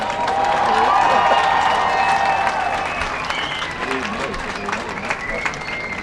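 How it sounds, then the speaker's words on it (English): Crowd applause and cheering from fans at a high school football homecoming game for the 2023 homecoming court, a broad steady roar of clapping that holds loud and then eases slightly, with some voices mixed in. "Sailor fans, please give a large round of applause for our 2023 Homecoming Court"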